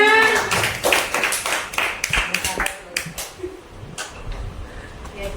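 A classroom of students claps together in a short burst of sharp, quick claps that thins out and fades, followed by talking.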